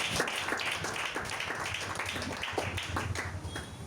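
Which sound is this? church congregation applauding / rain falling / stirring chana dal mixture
church congregation applauding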